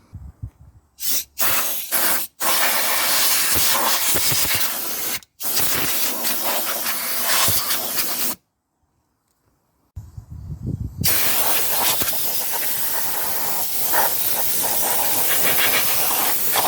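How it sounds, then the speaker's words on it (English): Compressed air blasts dirt and debris out of a car's plenum chamber during cabin filter replacement, a loud close hiss in long bursts with abrupt stops and a few seconds of silence between them. "that's the rest of the dirt and debris blown away with the compressed air"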